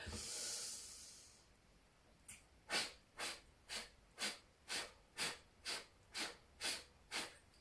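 Pilates exercise breathing: a long soft exhale hiss, then a steady run of about ten short forceful breath puffs at an even pace, close and alone.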